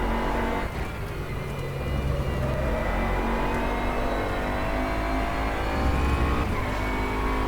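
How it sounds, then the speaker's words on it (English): A Bentley Continental GT3 race car in a racing video game roars at high revs, with a steady engine whine and rising gear tones, punctuated by brief rattling thumps as it rides over curbs. "Good rattle from the curbs as you go over them"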